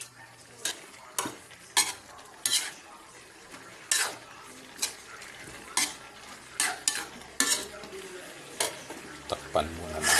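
A cooking dish stirred in a pan, with regular scraping strokes of a utensil against the metal every half second or so over a steady frying sizzle, close up, with a voice talking at times.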